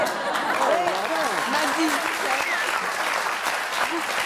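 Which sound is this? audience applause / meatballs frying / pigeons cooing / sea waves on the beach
audience applause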